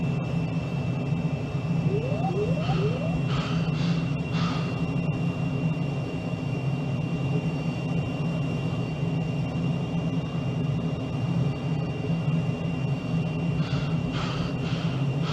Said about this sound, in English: Bit of afterburner now.